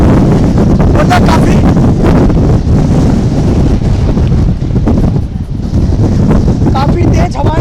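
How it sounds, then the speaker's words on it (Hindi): Strong cyclone winds roar on the coast at Dwarka during Cyclone Biparjoy, loud continuous buffeting against the microphone with surging gusts and a rumble that may be surf, and a voice talking through it. "काफी तेज हवाएं इस परिसर में चल रही है"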